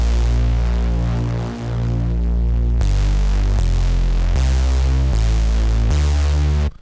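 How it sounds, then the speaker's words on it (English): A heavy hardstyle bass synth from an FL Studio template built with 3xOsc and internal plugins, with distortion and width, thumps in a steady, loud, distorted pattern of long pulsing notes that change pitch every beat, with no voices. "This is the bass."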